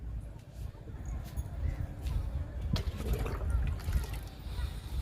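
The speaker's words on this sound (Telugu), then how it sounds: "లిక్విడ్ ఇస్తున్నాను మునగ మొక్కకి, విరజాజికి ఇస్తున్నాను" Liquid fertilizer is poured into the soil of drumstick and jasmine plants in a home garden, a soft, low splashing trickle that swells toward the end, faint and fairly close.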